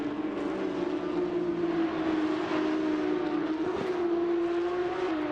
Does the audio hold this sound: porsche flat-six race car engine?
yes